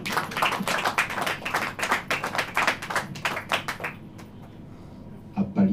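A church congregation claps in a dense burst of overlapping handclaps, loud and sustained for about four seconds before fading out, with a brief voice near the end.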